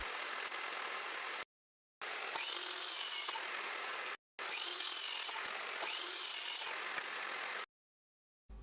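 Steady, loud power-saw cutting through wood in three long bursts separated by short silences, a continuous harsh whine with no talking.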